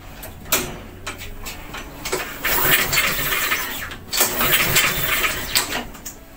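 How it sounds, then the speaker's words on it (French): Someone pulls the recoil starter cord on a lawn mower engine that will not start. The engine cranks and turns over in rough mechanical bursts with ratcheting clicks, close and fairly loud, over about six seconds. "on va tenter de tirer sur la corde de lanceur"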